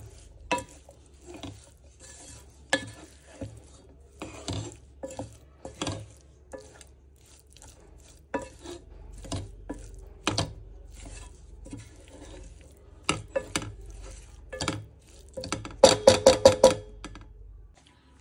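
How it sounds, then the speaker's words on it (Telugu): Spices and garam masala with cumin powder being stirred together in a pan for a cauliflower gongura dish, a long run of quiet scraping and tapping strokes, close, speeding up into a quick cluster of clinks near the end. "సో ఇప్పుడు మొత్తం ఇది కలియబడుతున్నాం."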